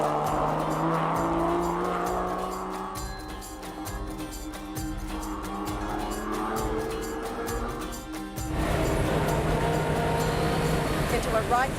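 A car descends a mountain road from nearly 1,900 metres, engine revving and shifting with tire noise, loud and close throughout, with a voice talking over it.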